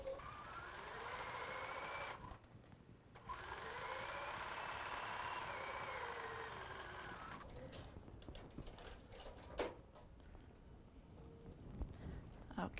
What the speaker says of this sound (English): let's go ahead and sew this final piece onto this 2-piece